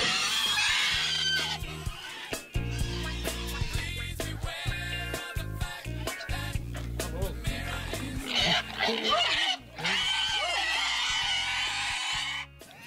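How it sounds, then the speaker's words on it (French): A pig squealing and screaming while being lifted by hand, loud shrill repeated cries close to the listener, with people talking and calling out over it. "Les cris du cochon, ça va saisir mais n'importe qui, là."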